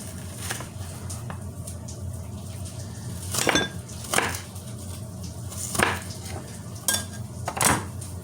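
A kitchen knife slices through food during meal prep, producing about five distinct, sharp cuts against the board at uneven intervals over a quiet room background.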